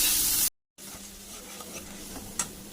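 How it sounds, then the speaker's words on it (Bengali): Soybean chunks fry in a little oil with salt, giving a steady, close hiss of sizzling that cuts out for a moment and then resumes evenly. "হালকা একটু লবণ দিয়ে আর হালকা একটু তেল দিয়ে ভেজে নিচ্ছি সোয়াবিনগুলোকে"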